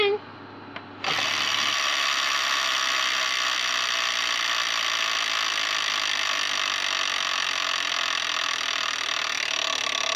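Wheel of Fortune Deluxe electronic tabletop game wheel spins, a continuous mechanical clicking ratchet that starts abruptly after a brief quiet moment and runs steadily and loud to the end.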